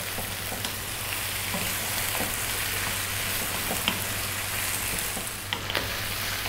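Pasta sauce frying in a pan on high heat with steady close sizzling and frequent stirring scrapes, a continuous crackle broken by occasional sharp clicks of utensil on pan.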